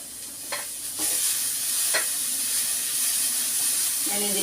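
Beans and grated carrot stir-fry in a pan: an even hiss of sizzling oil broken by a few sharp spatula scrapes and clinks, ending in a brief metallic ring.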